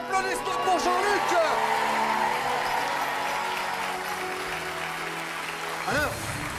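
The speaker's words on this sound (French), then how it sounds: "applaudissements pour Jean-Luc" Studio audience applauding for Jean-Luc Reichmann on a French TV game show, a steady wash of clapping that holds for several seconds under bright musical stings and fades slightly before a final sting.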